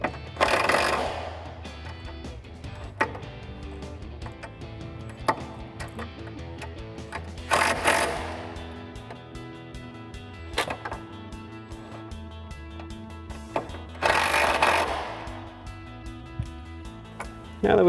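Bolts snugged down on a Teraflex Alpha HD hinged spare tire carrier on a Jeep Wrangler JL, with a ratchet giving soft clicking runs and three louder bursts of tool noise spaced several seconds apart amid quiet workshop sounds.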